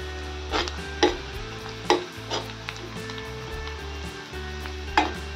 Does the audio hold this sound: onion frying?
yes